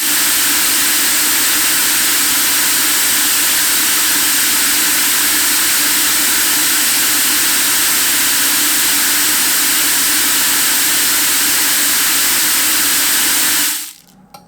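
Magnetic deburring tumbler built at home, driven by a Teknic ClearPath servo motor spinning at 1,000 RPM, produces a loud, steady whirring hiss with a low hum that runs unbroken and alone for about fourteen seconds before cutting off abruptly.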